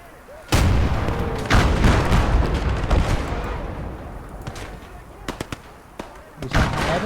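Mortar and artillery blasts in a video game battle, Kelly's Heroes scenario: several loud booming detonations spaced irregularly, strong one near the start and more through the clip, with distant crackling gunfire in between and faint voices.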